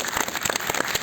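A short burst of dense, rapid applause from an audience at a mushaira, a poetry gathering, sounding close and steady throughout.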